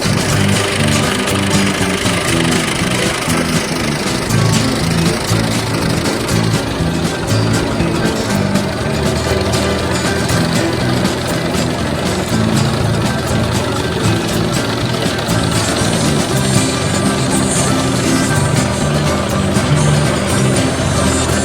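A 1956 Farmall 200 tractor pulling a McCormick-Deering FC-21 sickle mower through June hay: a steady, close engine drone with a rattling cutter-bar clatter that holds evenly throughout, with no talking.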